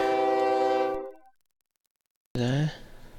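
Whistle-like train tone from the OpenTTD video game, a sustained bright horn for about a second that cuts to silence, then a short gliding tone returns.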